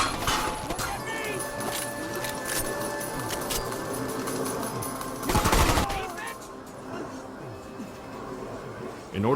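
Gunfire from a video game firefight in a casino room, with bursts of automatic fire and a loud cluster of shots near the middle, under radio-style squad chatter.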